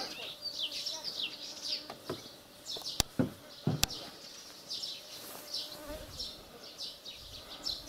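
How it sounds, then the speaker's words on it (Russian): A mosquito buzzes close by in repeated high whining passes that rise and fade, alongside a few sharp knocks and faint background voices in an outdoor setting. "Комар заедает."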